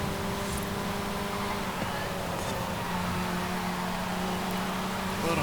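MG MG6 XPower racing on a circuit in Forza Horizon 5, its engine a steady continuous drone with a sustained pitch that shifts slightly as it holds speed, with other cars' noise mixed in behind.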